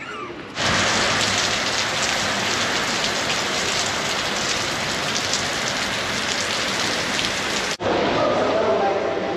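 Heavy tropical storm rain pours steadily in Maputo, Mozambique, a loud dense hiss of drops on surfaces that holds almost unbroken for several seconds before briefly dipping and returning.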